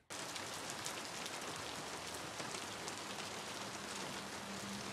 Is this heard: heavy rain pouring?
yes